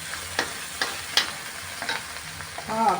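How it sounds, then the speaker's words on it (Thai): Spicy catfish stir-frying in a pan as water is added, with a steady sizzle punctuated by several sharp stirring scrapes and clatters, close and moderately loud, with no speech. "เราก็ค่อยๆเติมน้ำลงไปนะคะเพื่อนๆค่ะค่อยๆเติมน้ำลงไป ขออย่าเพิ่งไปคนมาก จะได้ไม่คาวนะคะ"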